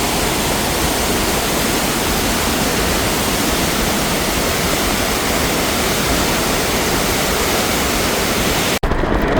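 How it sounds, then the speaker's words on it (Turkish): A steady, loud roar of falling water from a waterfall in Hakkari, Turkey fills the whole stretch, broadband and unbroken, cutting off abruptly near the end. "Of şelaleye bak."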